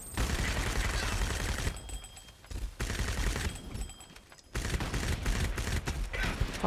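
Rapid, loud sniper and automatic gunfire from Crysis Remastered during a quarry fight, with dense bursts that stop briefly and then resume, with no talk over the shooting.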